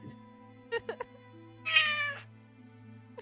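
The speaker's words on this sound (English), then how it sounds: "heard a kitty cat" A cat meows once, a clear drawn-out cry in the middle, with a few faint clicks before it and a steady low hum underneath.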